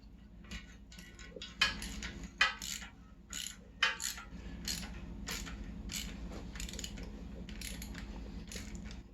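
Ratchet wrench on an extension loosening exhaust bolts on a 1981 Yamaha XS850 Special in a backyard, giving close, steady rapid clicking with a few louder knocks and strains, no talking.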